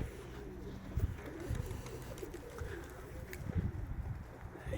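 A pigeon coos in low, repeated throaty calls against a steady background rumble.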